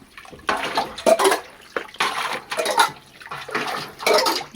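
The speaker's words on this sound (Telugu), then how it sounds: "ఒక ప్లేట్ తీసుకుని అయితే నీళ్ళు అయితే తోడుతున్నా ఉంటాయి" Water scooped out of a drained canal with a plate while fishing, rhythmic bursts of splashing and pouring in quick repeated strokes, close by, with no talk.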